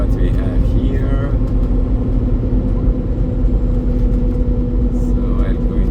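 Truck cruising along US-36 East in the Indiana countryside, a steady low engine rumble and road noise running continuously and fairly loud, with a person talking over it.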